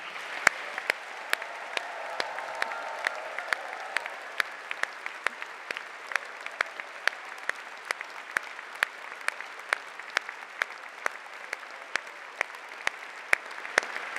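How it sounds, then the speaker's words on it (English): A graduation ceremony audience at the University of Southampton applauds steadily for a long stretch, many individual hand claps crackling distinctly through a wide hall without pause. "So please give yourself the biggest round of applause yet."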